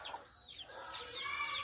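A hen clucks softly in short, scattered calls over steady outdoor background noise, fairly quiet and a little distant.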